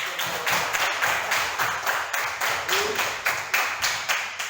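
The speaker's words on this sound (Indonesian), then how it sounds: "Tepuk tangan dulu kan." Schoolchildren in a classroom clap together in a steady, rhythmic unison pattern, roughly two or three claps per second. The clapping is close and even, with no talking over it.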